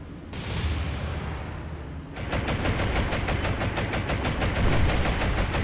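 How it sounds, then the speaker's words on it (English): Heavy ship guns in a naval war video game pound away at the Bathurst, a dense, loud barrage of booming shots that grows into rapid, rhythmic firing after a steady rumbling start. "First let's start shooting at Bathurst."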